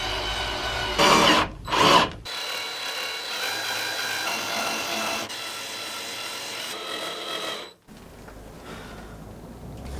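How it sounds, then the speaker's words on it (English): Power drill driving long screws through plywood into wooden beams in a van floor, a steady close whirring grind with short bursts at the start and a pause near the end. "we had to go for these very long screws because they need to go through this wood, the plywood, and the wood beams underneath"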